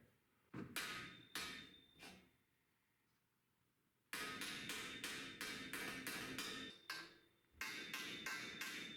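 Repeated heavy blows crash into wood in quick bursts, a pause of near silence, then a rapid run of loud, cracking hits close by.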